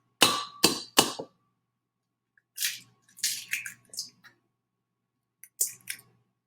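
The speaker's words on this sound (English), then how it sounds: "Here's how you crack an egg. Gently hit it against the side of the bowl" An egg is cracked against the side of a bowl while making brownies: two sharp, close taps followed by scattered soft wet cracking and squishing sounds, with brief quiet gaps and no talking.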